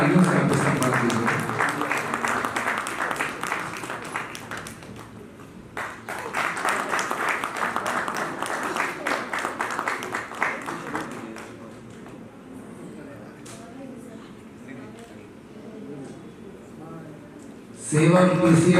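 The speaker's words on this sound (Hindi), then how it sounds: "जोरदार तालियों से आपको सम्मान दीजिए।" Audience applause at an awards ceremony, dense sustained clapping that swells in two waves and then fades to scattered claps, with a speaker's voice on the microphone over it.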